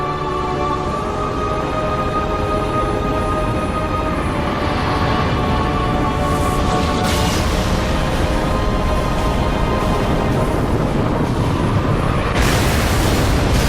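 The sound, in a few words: frigate Grafton exploding in Halo Reach video game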